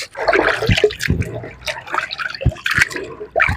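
Water splashes and swirls in a pan as pap grains are rinsed for a second washing, with loud sloshing bursts and brief gaps, close by and without talk.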